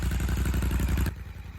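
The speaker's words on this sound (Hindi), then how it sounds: "अपनी बाइक को स्टार्ट हुए 5 से 10 मिनट हो गए हैं और इंजन भी थोड़ा बहुत हीटअप हो गया है" A warmed-up Royal Enfield GT 650 with a Red Rooster exhaust and dB killer fitted, idling up close with a loud, steady thumping beat that drops in level after about a second.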